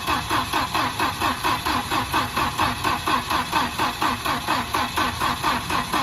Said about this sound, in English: I've been making attempts to start the car.